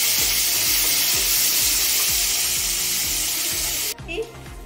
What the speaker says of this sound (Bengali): এখন আমি হালকা নাড়াচাড়া করে নিচ্ছি।